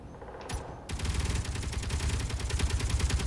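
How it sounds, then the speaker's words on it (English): Gatling gun turrets in the video game Space Engineers open fire on targets, a continuous loud rattling stream of rapid shots after a brief opening burst, sustained and close with no voices. "I turn my Gatling guns back on"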